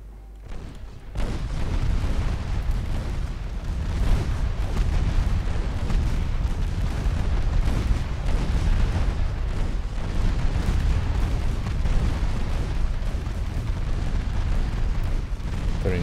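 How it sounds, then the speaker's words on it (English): Rapid, overlapping booms of 3-inch and 5-inch secondary warship guns firing in the Ultimate Admiral Dreadnoughts naval game, a dense, continuous barrage of loud reports with no pauses, sustained for the whole stretch with no voices. "turning the secondaries on will also activate the 5-inch guns"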